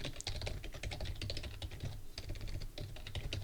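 Rapid typing on a computer keyboard as a program is entered, with quick irregular bursts of close, crisp key clicks and a brief pause midway.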